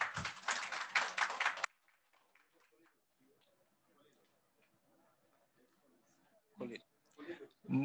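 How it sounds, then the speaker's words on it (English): Audience applause at an export certificate ceremony in Bangladesh with a minister present: dense clapping at the start that cuts off abruptly, then a quiet room with faint sounds and a voice speaking near the end. "Big round of applause, ladies and gentlemen."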